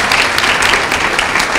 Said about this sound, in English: Give Peter a round of applause.